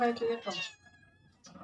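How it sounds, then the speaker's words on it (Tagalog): Cats meow loudly nearby, a couple of overlapping harmonic calls at the start, then a shorter meow after a brief pause. "Maingay po yung mga pusa."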